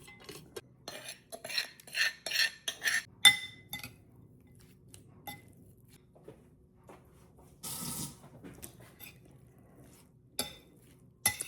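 Mango salad tossed in a bowl with a utensil, a series of close clinks and scrapes in bursts with quieter pauses between, no talk.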